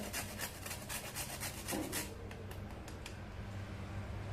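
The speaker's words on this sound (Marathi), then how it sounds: "आता थोडंसं पुरणामध्ये जायफळ किसून घालूया" Nutmeg is grated over puran filling in quiet, rapid rasping strokes, a steady close scraping rhythm that trails off toward the end.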